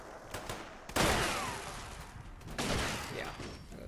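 Shotgun fire in the video game Fallout 76, two loud booming blasts about a second and a half apart, each trailing off in a long rumbling decay.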